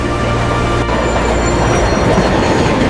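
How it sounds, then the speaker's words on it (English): Rumbling steel wheels of a train rolling into a station in 1944 Hiroshima, a dense, steady roar with faint high squeal above it, loud and continuous throughout with no voices. "The sound of steel wheels comes first. Trains arrive carrying passengers, workers, soldiers,"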